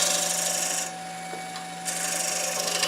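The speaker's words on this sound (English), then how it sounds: "I'll just smooth it, as I call it, my smoothing and finishing scraper" A hand-held smoothing and finishing scraper draws across a wooden surface in steady, close, even strokes, with a brief pause partway through and a faint steady hum underneath.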